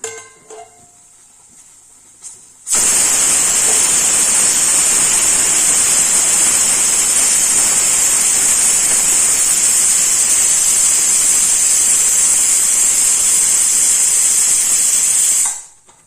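A pressure cooker whistle releases a loud, steady jet of hissing steam that starts abruptly after a quiet moment and blasts continuously for about thirteen seconds before cutting off.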